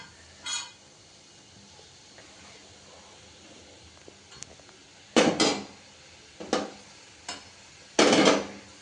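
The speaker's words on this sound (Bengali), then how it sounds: "চলো বন্ধুরা পটলগুলো সব আস্তে আস্তে করে মধ্যে দিয়ে দিই।" Pointed gourd pieces go into a hot pan and get stirred: a few short sizzling scrapes and clatters of a spoon against the pan, separated by quiet stretches, with no talking.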